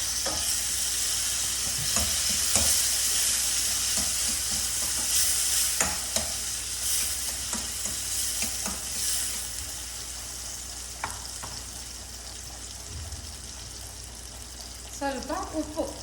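Tomato frying with onion and turmeric powder in a pan for brinjal palya, a steady sizzle broken by scrapes and stirring knocks, with some water-like splashing near the end.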